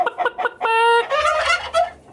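Roosters in a barn gobble and call loudly at close range in a quick rapid burst, with a sustained squawking cry in the middle.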